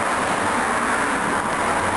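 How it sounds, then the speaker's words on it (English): Street traffic on North Mohawk Street, a main road, rumbles past as a steady, broad wash of road noise at moderate level, continuous with no distinct passes or voices. "You can hear the traffic behind me."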